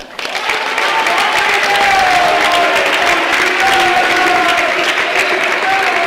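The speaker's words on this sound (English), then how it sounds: "Give them a big round of applause." Audience applause for party candidates at a youth state convention, loud and dense clapping that swells quickly and holds steady, with some cheering mixed in.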